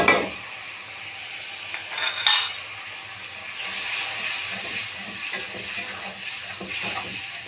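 Spices frying in a pan make a steady close sizzle and hiss, with scraping stirs and a few sharper pan clinks partway through.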